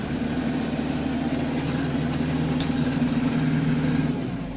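A Kubota KL500 tractor's 50-horsepower engine drones steadily as it speeds up and drives off, a constant mid-pitched engine hum held close and loud throughout without talk.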